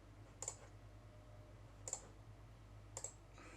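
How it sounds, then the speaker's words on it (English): A computer mouse clicks during CAD modelling work, three sharp isolated clicks spaced about a second or more apart over a quiet low hum, close and fairly faint, with no talking. "I'm clicking off a lot because my escape key is not working"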